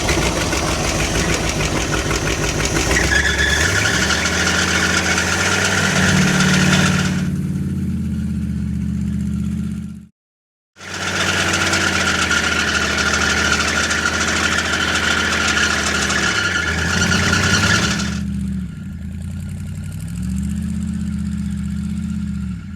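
A 1977 second-generation Dodge van engine, idling after sitting twenty years, runs loud and steady with a mid-range drone and slight revs, cutting out briefly midway before restarting and carrying on.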